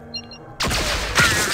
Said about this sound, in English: those pistols are loud. It's like a cannon firing.